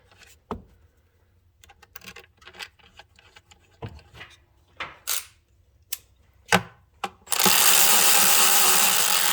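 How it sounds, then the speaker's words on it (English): Two bolts are reinstalled on a Ford vapor valve with hand tools: scattered clicks and ratcheting taps, then a loud steady whirring burst of a power tool at the end, close up with no talk. "Reinstall the two bolts."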